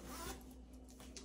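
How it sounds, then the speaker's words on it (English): A zipper on shapewear is handled up close, giving a couple of quick, quiet rasping pulls with no voices over it. "Oof, it has a zipper right here."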